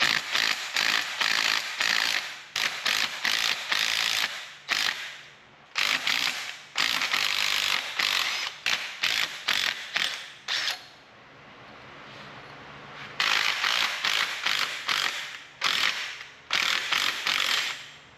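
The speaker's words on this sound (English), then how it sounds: "I'll see if I can rattle loose these bolts that are on the manifold." A hand ratchet clicks in rapid repeated bursts, loosening oil-soaked manifold bolts on a 1959 Allis Chalmers D17 tractor, close and loud, with brief pauses between stretches of cranking.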